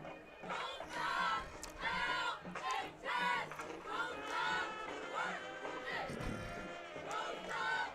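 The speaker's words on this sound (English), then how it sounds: "And you're right, Sussex Tech did bring a crowd tonight." A large football crowd at the Sussex Tech versus Laurel game in Laurel roars and cheers in steady, swelling waves, with many voices blending into continuous chant-like shouting throughout.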